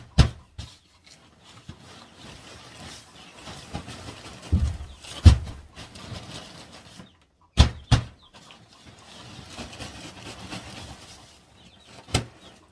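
Hens in a backyard chicken coop give scattered clucks and sharp calls over a quiet background, with a few louder knocks and thumps from coop cleaning mixed in.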